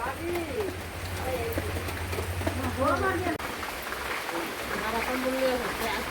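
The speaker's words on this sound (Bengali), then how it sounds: "প্রচন্ড বৃষ্টি হচ্ছে" Heavy rain falls in a steady broadband hiss on surfaces throughout, while voices talk over it the whole time.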